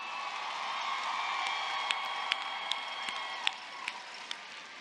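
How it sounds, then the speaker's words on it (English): A crowd at a university spring commencement applauds the graduating class, sustained distant clapping and cheering with a few sharp, louder claps and whoops standing out. "Audience, please join me in another rousing applause for the class of 2025."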